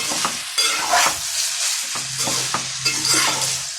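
Cooked noodles being stirred and tossed in a frying pan, with a steady sizzle beneath repeated scraping strokes of the spatula, close and fairly loud, no talking.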